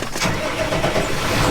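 A farm tractor engine starts and settles into a steady, loud running rumble, continuous and close for the whole moment, with no voices.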